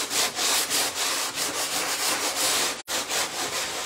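Wood being hand-sanded for a steampunk vintage picture, with steady rhythmic back-and-forth rasping strokes, close and clear, and a brief pause near the end.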